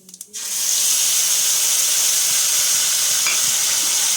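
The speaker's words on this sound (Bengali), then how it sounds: "এখন আমি অ্যাড করব সেই পেঁয়াজ কাঁচা লঙ্কা বাটাটা।" Onion and green chili paste hits a hot pan and frying starts at once, settling into a loud, steady sizzle that continues to the end, following a few brief clinks at the very start.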